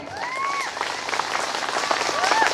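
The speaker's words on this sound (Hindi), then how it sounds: "हाँ बजाओ जोरदार तालियां एक बार" A large crowd at a Hindu Ram Katha religious gathering claps loudly and steadily, with a couple of rising whistle-like cries over the swelling applause.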